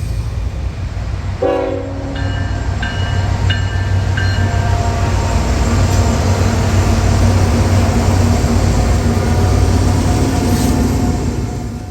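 A heavy freight train rolls past on the rails with a continuous loud rumble and steady clatter of wagons, and a brief horn sounds early on.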